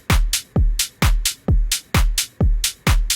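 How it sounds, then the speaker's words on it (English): An electronic UK garage drum loop mixes punchy kicks, claps and hi-hats into a bouncy, even groove, with about seven loud hits repeating steadily and no voices over it. "So now all those kicks and claps and hats together sound like this."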